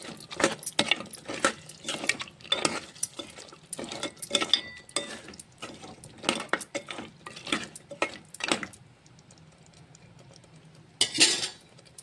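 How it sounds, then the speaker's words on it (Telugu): Water is poured into a pot of mutton curry with tomato puree simmering in oil. Steady metallic stirring clatter and scraping of a utensil against the pot come first, then a brief rushing splash of pouring near the end, with no talking. "వాటర్ పోసుకుందాం."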